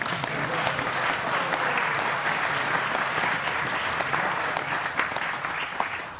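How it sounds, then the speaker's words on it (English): Sustained audience applause for devotee families at a spiritual gathering, a dense, steady wash of clapping lasting several seconds without letting up. "Give them a big round of applause."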